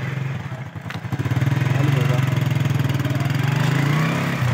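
A motorcycle engine runs steadily at a low, even throb, close and fairly loud, carrying on throughout with a brief dip near the start.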